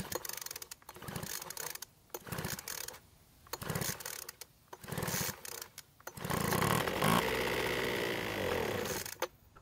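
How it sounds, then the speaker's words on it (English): A Poulan Pro leaf blower engine sputters through several uneven mechanical bursts, then catches and runs briefly with a rough, steady drone, fairly quiet and close. "the engine started and ran for a few seconds"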